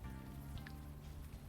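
Steady rain falling in the video game Unavowed, a continuous close patter on hard surfaces with a low hum beneath it and no break for its short length.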